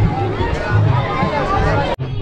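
A dense crowd murmurs at a Ramapir temple fair, a constant babble of many voices close by with footsteps and movement, cut off briefly near the end.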